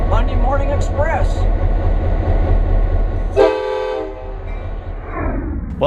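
Branson Scenic Railway locomotive number 98, heard from on board, gives a steady low rumble with horn toots, loud and close, while people talk.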